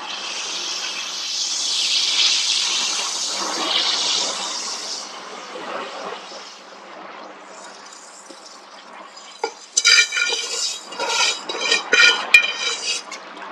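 About 3.5 kg of sugar is poured into a container for mixing, giving a steady granular hiss for several seconds, then a quieter stretch followed by rattling, scraping bursts near the end; no voices.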